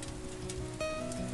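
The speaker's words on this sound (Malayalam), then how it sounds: "മഴ നമ്മളോടൊക്കെ ദേഷ്യം തീർക്കുന്നത് പോലെയാണ് പെയ്തുകൊണ്ടിരിക്കുന്നത്." Heavy rain pours steadily in a garden setting, a dense continuous hiss of drops on surfaces with no voices, close and even throughout.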